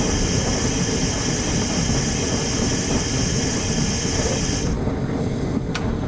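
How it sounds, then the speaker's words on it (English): Steam locomotive cab in Train Simulator 2020, a rebuilt Bulleid engine with a sound addon pack: loud, steady hiss and rumble throughout, with the high hiss cutting off near the end, followed by a brief sharp click. "the sounds of it sounding like a proper steam locomotive cab"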